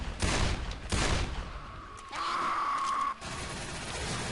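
Desert Eagle pistol shots in the zombie shooter Left 4 Dead 2, a few loud close blasts spaced apart, with game background noise and a brief tonal effect between them.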